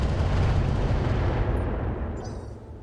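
Heavy mech weapons fire in the video game RogueTech, a loud sustained barrage of booming blasts and rumble that fades gradually toward the end.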